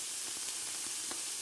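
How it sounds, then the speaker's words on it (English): Raw meat hits a hot pan for kimchi fried rice, a loud, continuous hissing sizzle with a couple of faint pops and nothing else over it. "let's place in the meat."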